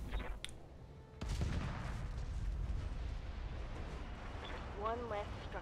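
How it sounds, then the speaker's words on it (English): Mech lasers firing in the BattleTech game, Advanced 3062 mod, in a city setting: a sharp discharge early on, then a sustained loud rumbling barrage with faint game tones near the end, no talk over it. "So turn the rotaries off, just fire the lasers."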